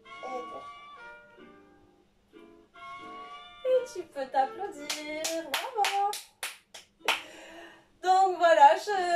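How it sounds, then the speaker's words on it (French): A person claps for themselves after a muscle-strengthening workout, giving a rapid series of sharp claps followed by a short final burst, with a voice speaking before and between them. "Et tu peux t'applaudir."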